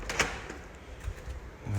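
A door at a beach house under construction in Barbados is pushed shut, giving a single short knock or click near the start, followed by quiet room ambience.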